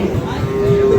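Sahiwal-breed calves at the Ambari livestock market in Dinajpur, with a short, steady low bellowing moo held for about a second, close and loud over the busy market din.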